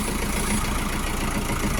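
A Lovol 504 tractor's engine idles steadily and close by, a continuous rumbling drone with no breaks, and no one talks.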